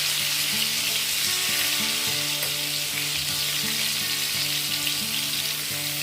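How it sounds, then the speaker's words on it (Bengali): Pointed gourd (potol) pieces fry in oil in a pan, giving a steady, close sizzle that runs unbroken throughout with no talking. "পটলগুলোকে দেখো একটু লালচে করে ভেজে নিতে হবে, মানে পটল যেন খুব ভালো মতো ভাজা হয়।"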